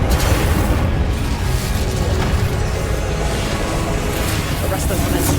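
Incendio fire spell being cast in the video game Hogwarts Legacy: a loud, continuous roaring burst of magical fire and booming blasts filling the whole moment, with dense game combat noise throughout.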